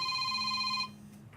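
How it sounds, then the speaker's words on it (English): A telephone rings with a steady electronic tone that stops abruptly partway through, leaving a quiet room. "Phone is ringing."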